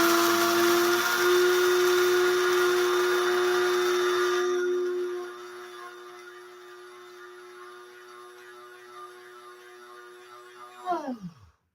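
A countertop grinder whirs loudly for about four seconds with a strong steady motor tone, then drops to a quieter hum as it keeps running before spinning down with a falling pitch near the end.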